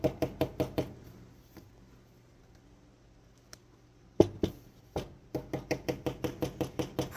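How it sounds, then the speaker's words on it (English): A metal cookie sheet fitted with an 8 by 4 inch piece of Noico sound deadening material is knocked in quick rhythmic series, producing short, dull, damped thuds with little ring, separated by a quiet pause. "With a 8 by 4 inch piece of Noico Sound Deadening material, the pan will sound like this."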